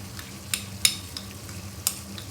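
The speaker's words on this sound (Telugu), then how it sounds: "నేను 1/2 కప్ పెరుగు వేసుకుంటున్నాను ఇందులో" Half a cup of curd is stirred into a chicken semiya dum biryani in a pan, making soft sizzling and scraping with a few sharp clinks of the spoon against the vessel, close and moderately quiet.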